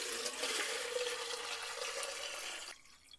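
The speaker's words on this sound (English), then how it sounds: "Pour it in my watering can." Clay-laden water pours steadily from a bucket into a watering can, a close, continuous splashing gush that stops abruptly near the end, leaving a brief faint trickle.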